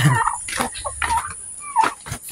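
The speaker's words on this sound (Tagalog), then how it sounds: "Ito naman may naglililim na pabo. Ayan, pabo." Farm turkeys resting in the shade gobble in short, rattling bursts, separated by brief pauses, close by and fairly clear, with a few other fowl calls mixed in.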